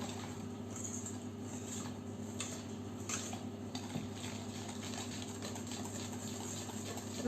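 Almond powder stirred into cake batter for a rum Nantes cake, a utensil scraping and tapping softly against a bowl in a steady, quiet rhythm over a constant background hum.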